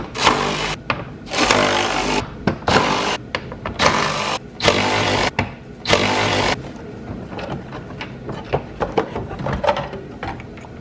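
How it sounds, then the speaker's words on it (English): A power tool whirs in repeated loud bursts of about a second each, with short pauses between, while Torx bolts come out of a vehicle LED turn signal and DRL light assembly, followed by softer clicks and handling noises. "now we'll go ahead and take those 4 Torx bolts out"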